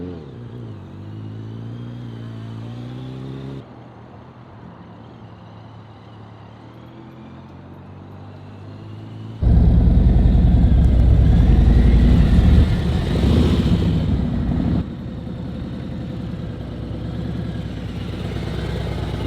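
A motorcycle engine runs steadily through a slow training turn, its low hum stepping up into a louder, rougher surge midway before easing back to a moderate drone, close and continuous with no talking.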